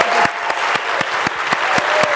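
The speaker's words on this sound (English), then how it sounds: "we owe Ana one more round of applause" Audience applause for Ana after an amazing speech, steady dense clapping from a crowd throughout, fairly loud with a regular pulse of louder claps.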